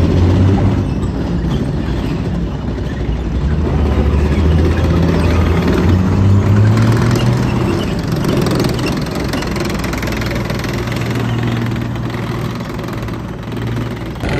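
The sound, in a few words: AMX-30 armoured recovery vehicle driving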